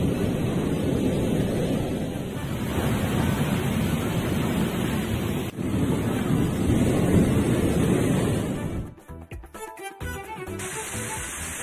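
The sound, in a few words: rough sea waves on the Kanyakumari coast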